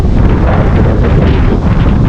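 Strong wind buffets the microphone with a loud, continuous roaring rumble, steady throughout with no voices.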